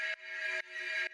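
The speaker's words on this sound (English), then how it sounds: "dark kind of landscape techno feeling" A detuned FM sine-wave synth pad for dark techno sounds three sustained, evenly spaced chords, loud and clear with nothing else around it.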